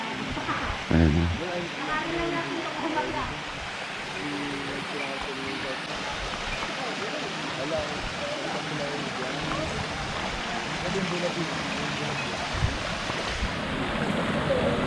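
Stream water flowing steadily in the summer, a continuous soft rush close by, with people talking over it.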